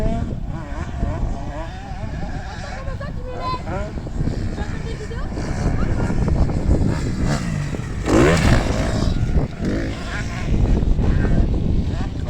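A motorbike rides and jumps, its engine revving and surging loudly throughout, with a strong rise around the middle, while people talk over it.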